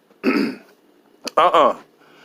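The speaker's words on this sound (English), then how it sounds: "Let me clear my throat." A throat clearing, two rough guttural bursts separated by a short pause, close to the microphone, then a voiced grunt-like rasp.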